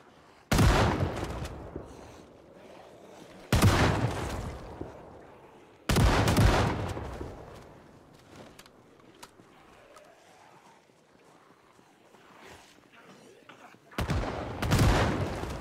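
Shotgun blasts from the Project Zomboid zombie-survival video game: four loud, booming shots spaced a few seconds apart, each with a short decaying tail, with quieter game ambience in the gaps.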